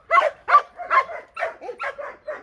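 A dog, a Kangal or a Chow Chow, lets out a quick series of about seven close barks and yips in an even rhythm, loud and alone with no talk.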